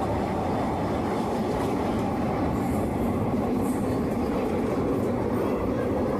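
Heard from on board, the Simhadri Express crosses the Rajahmundry road-cum-rail bridge over the Godavari in a steady, dense roar of wheels and carriages with no clear pauses.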